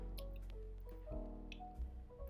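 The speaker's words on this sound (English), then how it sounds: "use a funnel to pour your water into your mason jars" Rice water poured through a funnel into a mason jar, soft quiet drips and squishy liquid trickles with a few brighter splashes, close and faint.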